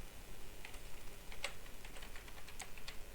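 Fingers type on a computer keyboard while entering data into an Excel bank statement, with soft, sparse key taps over a hissy background.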